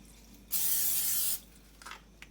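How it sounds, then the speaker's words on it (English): A short burst of cooking oil spray hisses into a pan for about a second, followed by a couple of faint clicks. "Spray some cooking oil."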